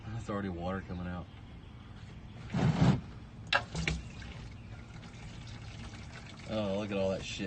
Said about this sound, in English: That's already water coming out.